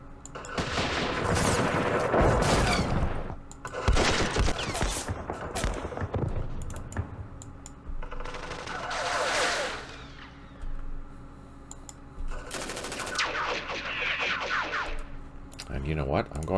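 Gunfire and artillery fire from the war game Campaign Series Vietnam, set in the Battle of Hue: rattling volleys of rifle and machine-gun shots and sharp cracks come in several bursts, with someone talking between them.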